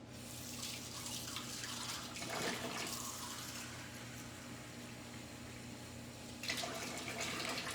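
Water pours into a cooking pot at home, a faint, continuous hissing splash that swells briefly twice and stays steady and quiet throughout.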